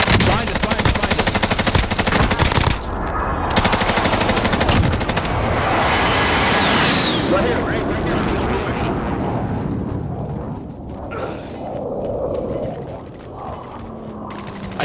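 Dense Warzone gunfire, rapid machine-gun bursts and single shots cracking loud and close, thinning out toward the end while a player talks over the battle.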